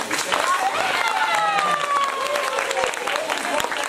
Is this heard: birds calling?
no